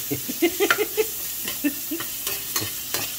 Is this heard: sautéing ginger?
yes